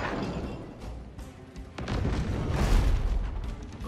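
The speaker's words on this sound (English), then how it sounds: "Those mortars are very powerful." Mortar fire in the naval battle video game Abandon Ship, a rumbling boom followed by heavier crackling blasts building over a few seconds, loud and close, with no talk.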